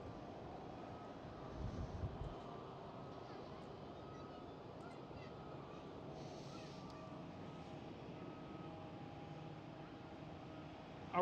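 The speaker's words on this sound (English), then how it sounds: "As well as this 737 taxiing out." A Boeing 737 taxis at Amsterdam Schiphol airport, a steady distant jet engine rumble and whine that holds evenly throughout, with a slight swell near the start.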